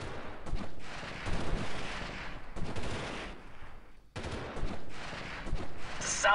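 Gunfire in the Delta Force video game: loud, dense volleys of shots crackling almost continuously, broken by one short near-silent gap before the shooting resumes.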